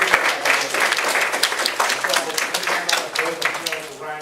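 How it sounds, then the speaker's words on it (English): Audience applause at a town hall budget meeting, a steady wash of clapping filling the room for several seconds with voices mixed in. "you should give yourself a hand of applause"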